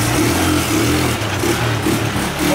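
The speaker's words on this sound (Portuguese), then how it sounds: "esse motor aqui tá batendo, mano. Eu tô ouvindo um bateção aqui." Knocking engine of an abandoned Honda Titan motorcycle running steadily, a rough, rhythmic mid-pitched throb with a repeating pulse, loud and close, no talk.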